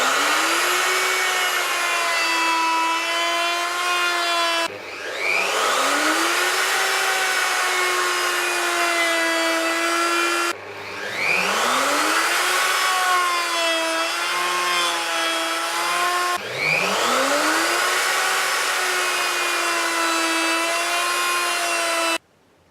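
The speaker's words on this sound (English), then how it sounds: "now I'm going to put a decorative edge all the way around the edges of it" A handheld router cuts a decorative edge around a wooden house-number plaque, making a loud, steady high whine in three long passes, with brief drops as the cutter spins down and back up between sides.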